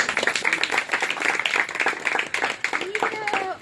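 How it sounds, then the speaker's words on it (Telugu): An audience breaks into clapping at a stage event, steady applause that runs under a speaker's voice talking throughout. "వీళ్ళకి ఒకసారి గట్టిగా క్లాప్స్ కొట్టండి ప్లీజ్."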